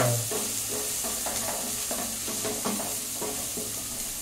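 Onions are sautéed in a pan for semolina upma, with a steady close sizzle and repeated scraping stir strokes of a spoon against the pan, heard alone.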